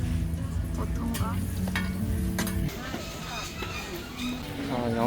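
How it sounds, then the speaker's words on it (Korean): Oil sizzles and crackles steadily as roti fries at a night market in Chiang Mai, Thailand, with occasional stirring clinks and people talking over it. "여기서 기름에 튀기고"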